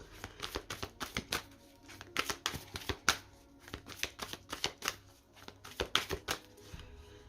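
Guardian angel tarot cards are shuffled close up in a quiet room, a quick run of soft riffling slaps and flicks in an uneven rhythm, with no talk.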